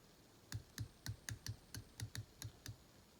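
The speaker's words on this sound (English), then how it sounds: "It is a 120 click bezel." The 120-click bronze bezel of a Boldr Odyssey watch being turned, producing about a dozen small, crisp, close clicks in a fairly even rhythm, quiet and alone.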